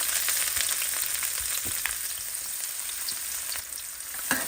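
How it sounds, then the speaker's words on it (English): Onion frying in hot oil for a Guyanese crab curry makes a continuous bright, crackling sizzle, moderately quiet and close, with a few small pops and occasional faint scrapes. "So my oil has been hotting, so I'm gonna put my onion in"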